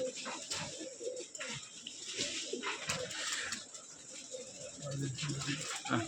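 Domestic racing pigeons kept for flying contests, a flock gathered in rows, give soft repeated cooing and rustling in the open air while people talk nearby.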